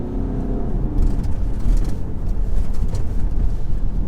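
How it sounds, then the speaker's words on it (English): A 2017 VW Tiguan with a 150hp diesel engine revs hard while driving, giving a steady, fairly loud drone heard from inside the car with road noise, holding on without any talk. "even though it is diesel, it does like to rev out"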